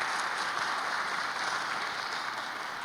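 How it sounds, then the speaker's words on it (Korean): Brief, steady applause from a church congregation, an even wash of clapping with no voices over it. "박수를 크게 한번 보내주시면 정말 감사하겠습니다"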